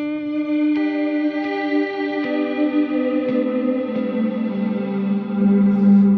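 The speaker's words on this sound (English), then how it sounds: "you hear the attack of the string and just have some pad notes" Electric guitar played through a Kemper Profiler, each plucked string giving a sharp attack over sustained, shimmering pad notes with chorus and echo; about six picked notes ring out in steady succession, with no voices.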